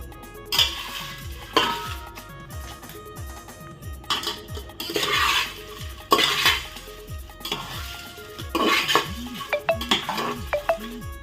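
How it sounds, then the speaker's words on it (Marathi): Bay leaves are dry-roasted in a pot for masala while a utensil scrapes and knocks steadily against the metal, making close, rhythmic clinks and rattles under a faint sizzle, with no talking. "आपला तेजपत्ता जवळजवळ भाजत आलेला आहे"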